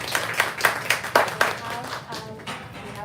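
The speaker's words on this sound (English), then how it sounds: "Give them a round of applause." A small audience claps at a bookstore author event, a few seconds of close, distinct hand claps in quick succession that thin out and fade.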